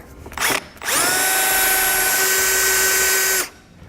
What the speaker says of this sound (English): We're going to drill our 1/2 inch hole here.